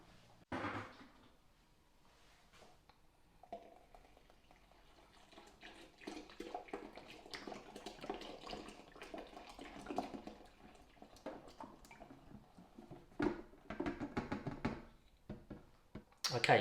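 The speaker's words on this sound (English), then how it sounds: "I'm just going to fill this up with water and again then just pop it in here." Tap water runs into a Pinter beer brewing vessel being filled for an IPA, a quiet, uneven splashing and trickling with some handling knocks and a clatter near the end.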